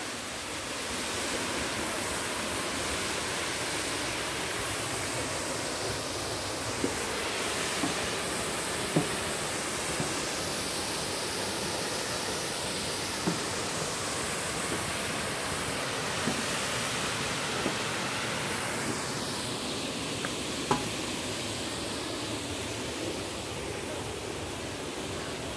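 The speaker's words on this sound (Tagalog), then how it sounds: "Pinsal Falls." Pinsal Falls waterfall roaring as a steady, even wash of rushing water that holds unbroken for about twenty-five seconds, with only faint small ticks on top.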